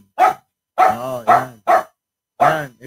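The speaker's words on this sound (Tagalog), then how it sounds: "Ang ingay ng mga aso ko" Several dogs bark loudly in short, sharp bursts, five barks over about three seconds with brief gaps between them, close by in a noisy yard during a heated fight.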